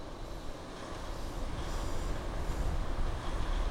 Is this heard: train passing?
yes